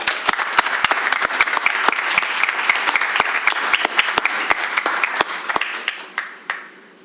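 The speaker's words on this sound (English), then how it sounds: "One more round of applause for her." An audience applauds an award-winning swimmer at a school board meeting, with sharp individual claps standing out over a steady crowd wash that fades near the end.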